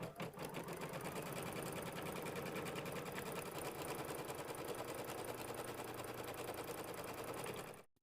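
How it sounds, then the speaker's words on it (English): Embroidery-style sewing machine stitching a wing placement line on a mini quilt, a fast, continuous rattling stitch that runs steadily for about eight seconds and then stops abruptly, up close and faint overall. "now it's going to stitch out the wing placement line."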